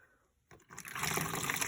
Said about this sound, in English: And I'm going to add some boiling water.